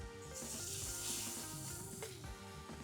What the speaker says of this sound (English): really get these raviolis moving. Because while they're in here, they're also going to kind of sear